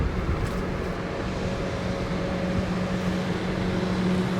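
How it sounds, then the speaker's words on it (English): Steady distant road traffic from State Route 3 drifting over a lakeside campsite on Cranberry Lake, a continuous low rumble and hiss with no distinct passes, no one talking. "Can hear some traffic noise from State Route 3 while you're at this site."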